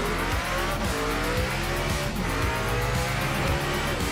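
Race car engines in the video game Project Motor Racing roar continuously and loudly, with tire squeal and skidding as a car spins out amid dense engine noise from several cars.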